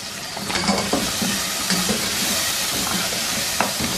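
Mutton cooks with red chilli powder, turmeric, cumin and coriander powder in a pot, giving a continuous close sizzle and hiss with occasional stirring scrapes.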